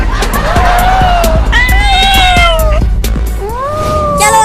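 Several cats meow loudly in drawn-out, rising and falling cries, overlapping one another close by, with some background commotion.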